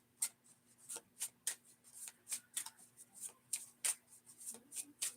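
A deck of playing cards is shuffled repeatedly by hand, giving quick, crisp riffling bursts in a steady, uneven rhythm, close and fairly quiet, against a faint low hum.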